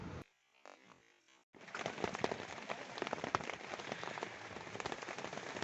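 Steady drizzle falling at night on a mountain campsite on Mount Slamet, Central Java, a soft continuous patter that starts after a brief quiet moment, close and even.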